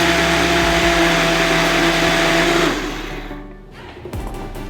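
A blender purees lobster bisque with rice in a steady, loud whir that cuts off partway, leaving quieter clattering and rumbling afterward.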